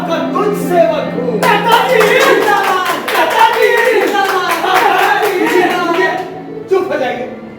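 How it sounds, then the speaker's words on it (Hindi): A theatre audience at a stage play bursts into loud, sustained clapping with cheering, dense and continuous for several seconds, while a voice talks over the applause before it tapers off. "ताली और जय जयकार से मुझे लज्जित करने का काम न करे"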